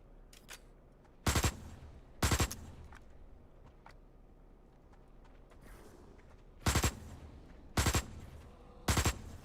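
Assault rifle fire in the sci-fi survival game Osiris: New Dawn, rattling out in five short loud bursts spaced across the stretch, with quieter game ambience and faint thuds between them.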